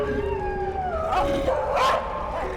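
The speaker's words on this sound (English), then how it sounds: "It was a horror show, with starving dogs everywhere." Starving dogs in a camp in a Mafia video game howl and whimper in long wavering cries that overlap, close and fairly loud over a busy background.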